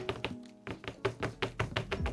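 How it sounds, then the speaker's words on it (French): A mould is tapped repeatedly to release air bubbles, a series of close, dull knocks in an uneven rhythm with a brief pause after the first few. "on va essayer de le tapoter un peu pour voir s'il n'y a pas des petites bulles d'air"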